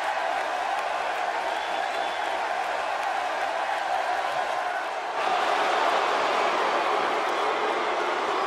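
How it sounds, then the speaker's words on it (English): Crowd buzz filling an arena in Rosemont before a big matchup, a dense, steady roar of many distant voices that swells louder partway through. "Would you listen to the buzz in the crowd?"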